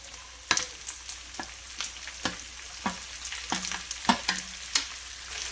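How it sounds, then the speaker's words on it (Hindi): Onions dropped in with reddish-fried mutton in a pan (pyaz gosht), sizzling quietly with scattered clinks and scrapes of a stirring spoon over about five seconds. "गोश्त है ना ऐसा लाल फ्राई होने के बाद है ना इसमें मैं प्याज डाल रही हूँ"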